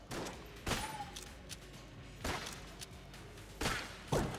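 Gunfire from a weapon in Enter the Gungeon, a few loud sharp bursts spaced a second or so apart over a low game backdrop, no talk.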